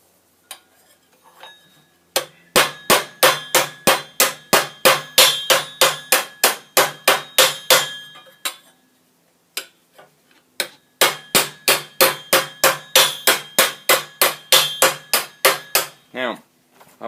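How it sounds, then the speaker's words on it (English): Hammer blows ring out against steel knee armour held on a stake, 14th-century style: two long runs of regular, evenly spaced metallic strikes, close and loud, with a short pause between the runs. "I'll change my angle of attack with my hammer on my stake"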